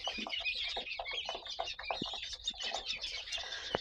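A flock of guinea fowl and chickens clucks and chirps busily at a distance in a village, overlapping calls and soft squawks forming a steady, chattering background.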